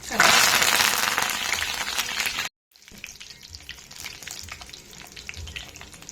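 Dry red chillies fry in about 100 ml of peanut oil for a cabbage garlic pickle, a loud bubbling sizzle that cuts out briefly, then returns softer with stirring noises.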